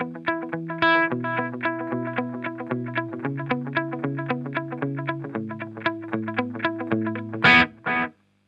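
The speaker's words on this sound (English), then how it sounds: "the repeats control goes from one single repeat" Guitar notes run through a Holy Era tap tempo delay pedal set to a single repeat, each plucked note followed by one echo in a quick steady line, ending with two short bright bursts, close and alone.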